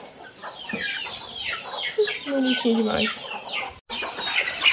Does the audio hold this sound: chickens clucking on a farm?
yes